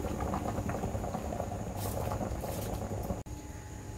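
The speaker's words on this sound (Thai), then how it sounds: "ตอนนี้น้ำเดือดแล้วนะคะเราจะไปทำน้ำสต๊อกกุ้งกัน" Pot of water at a rolling boil for shrimp stock made with shrimp heads, a steady close bubbling and simmering hiss with no talk.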